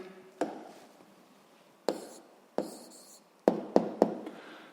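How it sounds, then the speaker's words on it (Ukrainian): A pen writes down an answer during a school physics lesson. Short, quiet scratchy strokes and sharp taps come in scattered bursts over a faint background, with no talking. "Записуємо відповідь."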